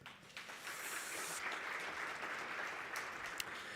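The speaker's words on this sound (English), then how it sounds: "I think that in isolation already deserves a round of applause" A conference audience at a national green hydrogen event claps for Namibia's Miss Earth ambassador, sustained applause that sounds distant and soft and holds steadily for nearly four seconds.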